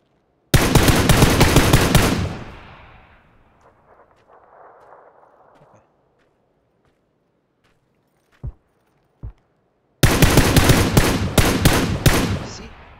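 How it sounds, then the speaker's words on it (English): Rapid automatic gunfire in a multiplayer shooter game, two loud close bursts of dense shots separated by a quieter stretch with faint game sounds and a couple of isolated thumps. "All the bullets hitting the same spot."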